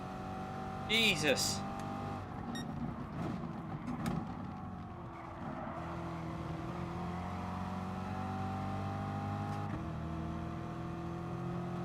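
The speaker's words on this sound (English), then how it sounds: "Audi TT in the slipstream, look at it go." An Audi TT race car engine in Gran Turismo Sport drones steadily and shifts pitch while running in a slipstream, with someone talking and exclaiming over it.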